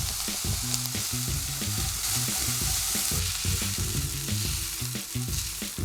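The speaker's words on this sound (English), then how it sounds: "We're going to fry our red onions now." Red onions fry in sesame oil with a pinch of salt in a frying pan, giving a steady close sizzle broken by irregular clatters of stirring.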